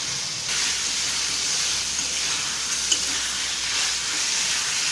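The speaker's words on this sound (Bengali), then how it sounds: "ঢাকাটা তুলে আরেকবার নেড়ে দিচ্ছি।" Mutton keema frying and being stirred in a pan, a steady broadband sizzle and hiss running throughout at close range, with a faint scrape or tap of the spoon near the middle and no voices.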